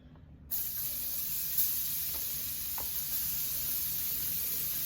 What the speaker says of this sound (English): I'm getting ready to fry these onions in there